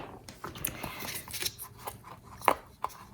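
Scissors snipping through a long traveler's notebook strap, heard as a few faint, sparse clicks and snips against a quiet room, with one sharper cut standing out near the end.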